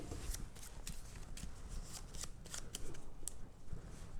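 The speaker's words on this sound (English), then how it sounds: "I'm going to give those a shuffle." Contribution and consequence cards for the board game Architects of the West Kingdom – Works of Wonder are shuffled by hand, quick crisp riffling bursts repeated in close succession, near and moderately quiet.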